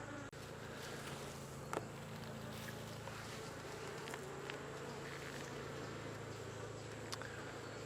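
Honey bees buzz around hive frames in a steady, low, continuous drone, close and quiet, with a few small knocks and no talking.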